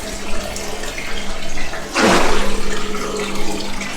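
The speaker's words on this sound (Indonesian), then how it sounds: "Ini gelombang yang dihasilkan wave maker ya." A wave maker churns water in a koi pond, giving a steady watery wash under faint background noise, with a louder splashing surge about halfway through.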